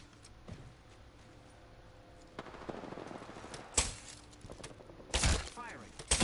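Gunfire in a video game cracks out in several sharp bursts over quiet in-game ambience, the loudest shots coming near the end.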